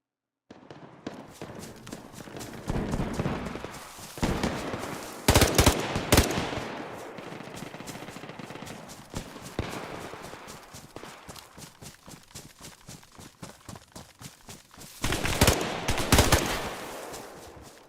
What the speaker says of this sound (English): Somebody behind me shooting at me now.